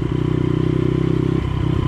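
A motorcycle rides near the indigenous community of Agua Blanca in Ecuador, its engine loud and close with a rapid, steady throbbing putter that shifts slightly near the end.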